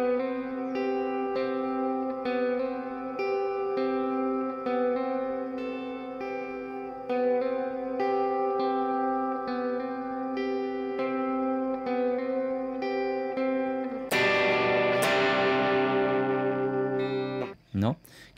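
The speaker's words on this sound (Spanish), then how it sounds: "nos quedaría drive más reverb y hago esta línea pero tocando con los dedos" Fingerpicked electric guitar line through drive and reverb, notes plucked softly and sustaining into one another, moderately quiet and alone, ending with a brighter strummed swell that decays.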